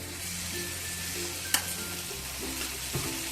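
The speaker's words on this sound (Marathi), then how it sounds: "तर छान गरम झालेलं आहे तेल आपण आता मालपोहे घालून घेऊया" Malpua batter made from wheat flour and mawa fries in hot oil in a pan, giving a steady close sizzle throughout, with a couple of brief clinks of a utensil.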